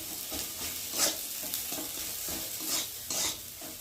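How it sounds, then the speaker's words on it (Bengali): Fried potatoes are stirred into a spice masala of cooked-down tomato in a pan, giving a soft, continuous sizzle. Scraping and clattering bursts from the stirring come close up and repeat irregularly, with no talking. "আর এখন ভেজে রাখা আলুগুলোকে দিয়ে মশলার সাথে ভালো করে কষিয়ে নেব"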